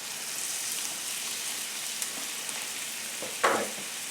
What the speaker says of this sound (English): You want to put about a tablespoon of butter in there and a tablespoon of flour.